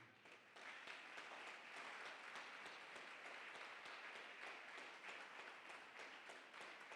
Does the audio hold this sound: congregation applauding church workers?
yes